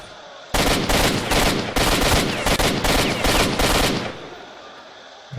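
Rapid bursts of automatic gunfire in the video game S.T.A.L.K.E.R.: Shadow of Chernobyl, loud and close, rattle in several sustained volleys with brief gaps, then cut off into quiet.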